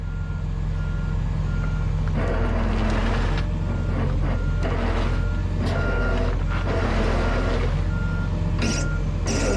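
A Penske truck given gas while stuck without traction, with a loud, steady low engine rumble swelling as the throttle is applied and repeated reversing beeps sounding over it, close by.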